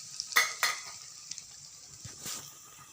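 Rava balls fry in a pan with a soft steady sizzle, broken by a few sharp clinks and scrapes of a utensil stirring against the pan, close by and without talking.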